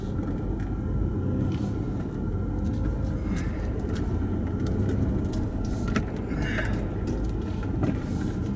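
A Cummins diesel truck engine idles with a steady, loud low rumble that holds evenly throughout, close up and without talking.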